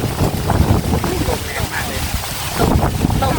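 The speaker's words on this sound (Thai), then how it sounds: "ที่มันลมจะแรงขนาดนี้ เพราะว่าวันนี้ร้อนมาก" Strong wind buffets an outdoor microphone on a hot day, a loud, continuous low rumble that swells and dips, with faint voices underneath.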